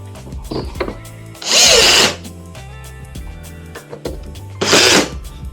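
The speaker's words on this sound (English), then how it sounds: "Probably should torque this a little more." A power tool torques a part during a welder repair in two loud whirring bursts, with quieter mechanical clunks and handling noise in between.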